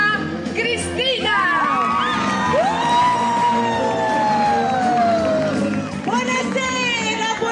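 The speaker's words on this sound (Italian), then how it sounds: "Signori e signori, un applauso a Cristina!" Audience at a contestant presentation cheering and whooping loudly, with shouts and excited voices rising over a dense crowd roar.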